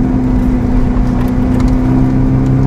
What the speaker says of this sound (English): the lovely thing about these engines is that you really hear the turbos spooling